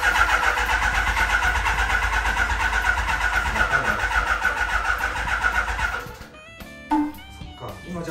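A vintage motorcycle engine runs loud and steady with a deep, throbbing low rumble for about six seconds, then cuts off, leaving brief clatter and a quieter tone.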